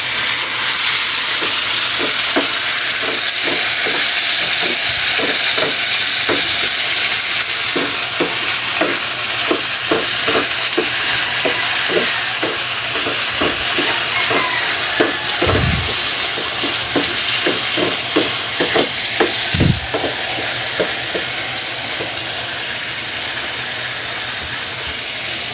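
Apitara canned tuna frying in a pan over a flame for a quick breakfast, a loud continuous sizzle with regular scraping and stirring strokes throughout.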